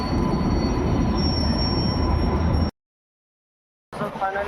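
Local train rolling into a station, a loud continuous rumble of wheels on rail with a high metallic squeal, cut off abruptly partway through before resuming.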